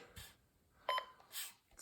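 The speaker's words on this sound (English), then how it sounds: "the only thing that beep is quite annoying" Short electronic beeps from an HO slot car lap timer, a few brief quiet tones spaced irregularly against a near-silent background.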